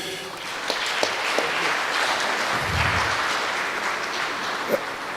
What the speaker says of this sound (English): Give Stephen a round of applause